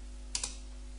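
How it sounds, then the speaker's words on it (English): Two quick keystrokes tap on a computer keyboard, close and faint against a quiet background. "you want to type in the name of your server"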